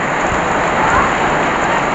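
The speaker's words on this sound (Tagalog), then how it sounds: "Ang lakas po ng ulan mga kaibigan." Heavy rain pours down in a steady, dense hiss, loud and close, with no break or other sound.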